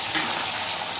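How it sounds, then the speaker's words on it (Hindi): Diced potatoes dropped into hot oil in a kadhai for a mixed vegetable dish fry with a steady, close, dense sizzle that holds evenly through the brief moment, with no voices. "कढ़ाई में हम तेल डालेंगे, आलू डालेंगे,"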